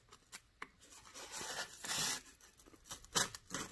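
Fresh utility knife drawn through a foam block along a marked line, giving a close, dry scraping rasp in short strokes with brief pauses, louder in the middle, alone with no talk.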